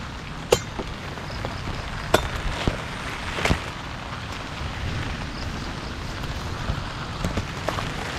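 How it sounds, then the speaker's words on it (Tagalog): Heavy rain pours steadily on a riverside spot with papaya leaves, a dense continuous hiss punctuated by a few sharp drips and taps. "Lakas ng ulan."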